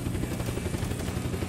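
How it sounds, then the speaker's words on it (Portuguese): A helicopter in the video game Unturned whirs steadily and loudly, its rotor chop forming a continuous pulsing drone with no voices. "Ah, um helicóptero ali, ó."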